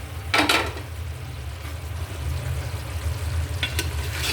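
Meat browning in ghee in a pot, a steady low frying sizzle close by, with a couple of brief sharper scrapes of stirring near the start and again toward the end.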